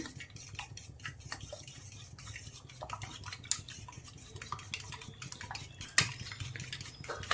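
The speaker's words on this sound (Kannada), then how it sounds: "ಸ್ವಲ್ಪ ಪೆಪ್ಪರ್ ಪೌಡರು ಚೆನ್ನಾಗಿ ಮಿಕ್ಸ್ ಮಾಡ್ಕೊಳ್ಳೋಣ" A spoon scrapes and clinks against a pot while stirring a paneer egg curry mix with salt, red chili and pepper powder, giving quiet, irregular metallic taps and scrapes over a soft background.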